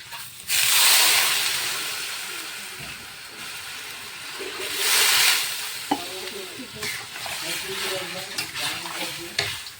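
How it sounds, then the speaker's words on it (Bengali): Loud sizzling and bubbling of a taro and prawn curry in a kadai swells twice after water is added, with stirring scrapes and a faint voice underneath. "কড়াইটা ফুটে উঠেছে দেখো"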